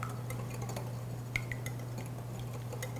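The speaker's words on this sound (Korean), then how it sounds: "생크림, 달걀까지 한 번에 넣으시고 한번 잘 섞어주세요." Fresh cream and egg being mixed into scone dough in a bowl, with soft scraping, light clinks and stirring noises against a steady low hum; no talking.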